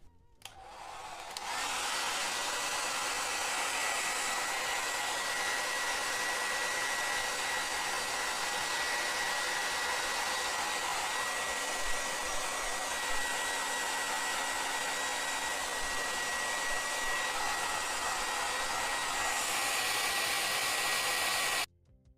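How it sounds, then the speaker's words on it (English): A heat gun blows steadily on the edges of Apple AirPods Max headphones during disassembly and repair, giving a loud, continuous rushing hiss that starts abruptly, holds for about twenty seconds and then cuts off. "So try to aim the heat gun towards the edges instead of the middle"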